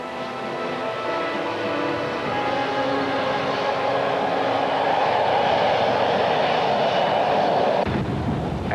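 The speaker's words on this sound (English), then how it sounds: "As is evident from its high-powered whine, the T-80 uses a turbine engine, as does the American Abrams" A Russian T-80 tank's turbine engine gives a steady, loud, high-powered whine that swells slightly over several seconds, then drops off abruptly near the end.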